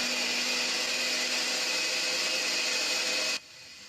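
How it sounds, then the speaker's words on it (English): A loud, steady whirring blender motor drones continuously with a high whine, then cuts off abruptly near the end. "There's going to be a blender turned on"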